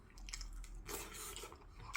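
Close, soft chewing and biting of delivered kimchi stew loaded with extra tofu, eaten alone at home, a steady wet mastication with a brighter crunchy burst midway.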